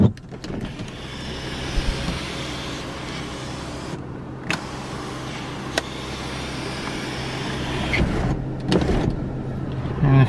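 The sunroof motor of a Mercedes E Class runs inside the car, a steady mechanical whir that pauses briefly midway, then resumes before ending with a soft clunk.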